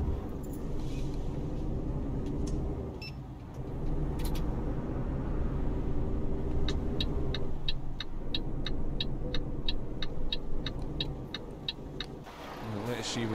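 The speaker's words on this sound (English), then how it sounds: "you can hear that traffic going past, as you should do" Road traffic passing in the trucking game Euro Truck Simulator 2, a steady engine rumble with vehicles swelling past, plus a regular ticking like an indicator for several seconds, with a voice talking over it.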